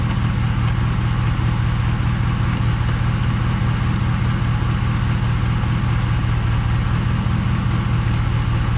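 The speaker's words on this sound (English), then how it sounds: "I'm going to spin the back tires and let it run into second gear." A Ram 1500 with an 8HP70 automatic transmission runs steadily in gear with its rear tires spinning, giving a constant low engine drone and hum that holds at an even level throughout, with no voices.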